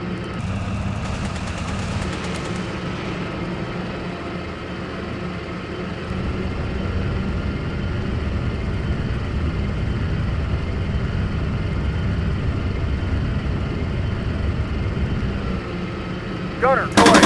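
Gunfire and artillery in the tank simulator game Steel Beasts, a dense continuous rumble of distant shots and engine noise lasting throughout, with faint voices underneath.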